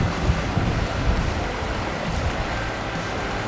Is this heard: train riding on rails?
no